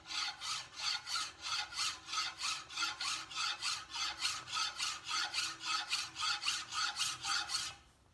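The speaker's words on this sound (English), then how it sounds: "you grab hold of the file, and you just place it down on the work itself" A hand file rasps across the edge of a garden tool such as a brush hook in a workshop, giving a steady rhythm of about twenty-five even, close strokes that stop just before the end; no one speaks.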